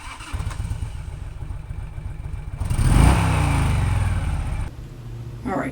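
Harley-Davidson Pan America motorcycle engine idling close up, then revving to a loud swell around the middle before dropping back to a steady idle, with no talk.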